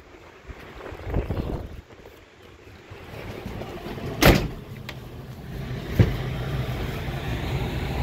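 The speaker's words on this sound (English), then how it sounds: "Gotta hold the door open or it'll shut." Wind blows in through a door held open in cold weather, a steady rushing gust with microphone buffeting, broken by a couple of sharp knocks and bumps from the door.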